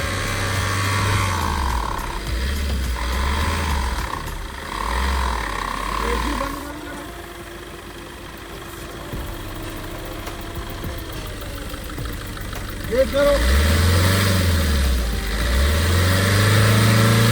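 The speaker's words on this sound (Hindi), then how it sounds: "इंजन पिकअप ही नहीं बना रहा है एक भी, केवल आवाज़ बस कर रहा है" A Maruti Dzire's engine idles unevenly with an abnormal noise and no pickup, its low hum surging and dipping in a slow rhythm, then grows louder near the end; voices are faintly mixed in.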